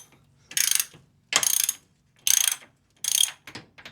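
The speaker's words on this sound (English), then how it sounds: "I do it the old-fashioned way, which is the wrench and a ratchet." A hand ratchet works a steering cylinder bolt on a tractor, giving four loud bursts of rapid pawl clicking with short pauses between strokes, then a couple of quicker clicks at the end, close up with no talk.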